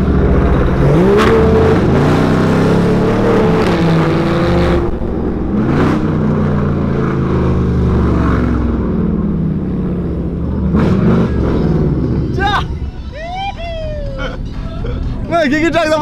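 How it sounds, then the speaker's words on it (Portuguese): A Chevrolet Camaro with straight-pipe exhaust revs and accelerates loudly, the engine note rising and falling in several pulls with tire or whine sounds late on, while people talk throughout. "vamos partir sair de Camaro. Porque, velho, eu quero muito dar uma acelerada"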